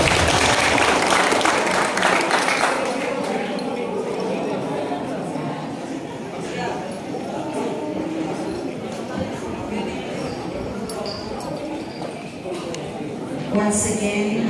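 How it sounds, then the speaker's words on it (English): A crowd applauds at a high school graduation ceremony, a broad clapping wash that is loudest at first and then settles into a steady level, with voices murmuring beneath it. "A round of applause."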